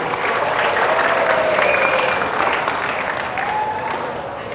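Audience applause for the TAP department at a school assembly, a steady, dense wash of clapping from a large crowd that holds for several seconds and slowly fades, with a faint tone drifting through.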